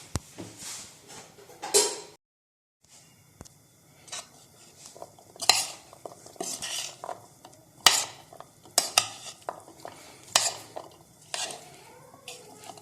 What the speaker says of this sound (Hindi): इस सारे को हम बहुत अच्छी तरह से दोबारा मिक्स कर लेंगे।